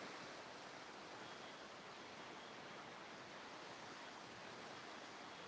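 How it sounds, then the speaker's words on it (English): A flowing river gives a continuous broadband rush of water, steady and unbroken with no distinct splashes, heard alone at a moderate, even level. "listening to the river."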